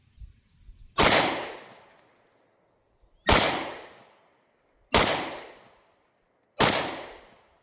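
Four loud pistol shots from a German 9mm Luger P08, each a sharp close crack with a short ringing decay, spaced a couple of seconds apart against steel targets, no talking.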